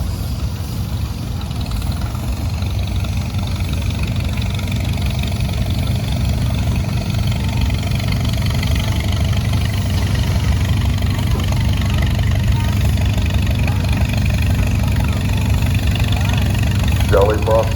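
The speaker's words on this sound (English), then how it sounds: "we got Don Foster, 1953, John Deere 60" A 1953 John Deere 60 tractor idles steadily at a steam and threshing show parade in Mason, Michigan, its low engine rumble continuous and fairly close throughout, with crowd and parade ambience around it.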